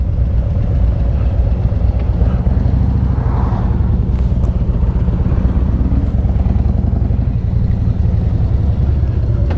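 A Harley Davidson CVO Street Glide motorcycle on a short ride, its engine a steady, loud low rumble with constant road and wind noise and no break throughout.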